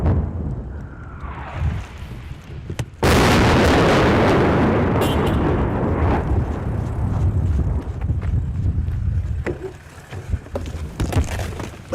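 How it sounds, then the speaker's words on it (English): A descending artillery shell whistle cuts through the air in Ukraine, followed by a sudden, massive blast that rumbles loudly and decays over several seconds, ending in scattered crackles. "Listen here for the sound of the whistle,"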